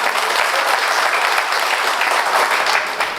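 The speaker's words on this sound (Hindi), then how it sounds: "अगर किसी को ताली मारने की इच्छा हो ना, तो पड़ोसी मत देखना, ताली मार लेना" An audience at a company's first anniversary celebration bursts into loud, sustained applause that fills the hall evenly, then begins to thin out at the very end.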